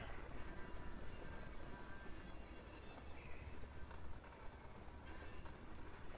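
A train rolling by in a train simulator video game, a faint continuous rumble and clatter of wheels that holds steady throughout.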